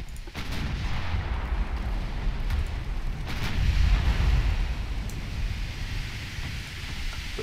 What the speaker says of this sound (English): The main guns on the battleship and the secondaries onto the destroyer.